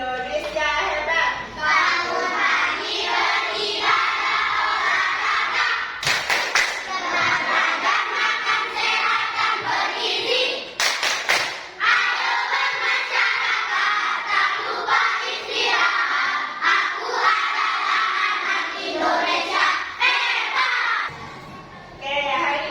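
Classroom of Indonesian fifth-grade children performing a rhythmic clapping chant together, loud shouted group voices with claps running steadily throughout, a couple of sharp bursts midway.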